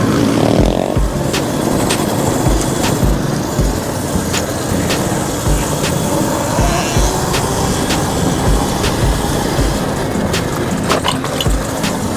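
A Rawrr Mantis Mini R dirt bike engine hums continuously while ridden, a steady mid-distance drone with faint rhythmic ticks and wind-like noise throughout.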